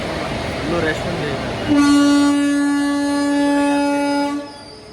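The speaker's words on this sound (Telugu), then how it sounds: "ఇప్పుడే కాజీపేట నుంచి స్టార్ట్ అవుతుంది ట్రైన్." Passenger train 12746 pulls out of Kazipet Junction, with rumbling carriage noise under nearby chatter. A long, loud, steady horn blast sounds midway and then fades out.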